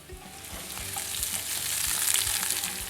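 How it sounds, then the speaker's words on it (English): Onions hit hot olive oil in a pan for a bell pepper sauce, giving a close, steady sizzle that grows slightly louder, with a few soft taps from the pan. "Once the oil is hot, just pop your onions in."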